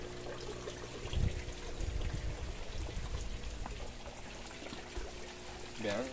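Water poured and trickling out of a daphnia tank, a steady splashing flow with a brief louder gush near the start, heard under someone speaking Spanish.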